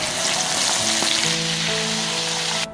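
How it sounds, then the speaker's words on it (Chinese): Prawns dusted with starch pan-fry in hot oil, making a strong, close, continuous sizzle with faint tonal hums beneath, ending with a sudden drop in the hiss. "大虾撒上淀粉煎一下"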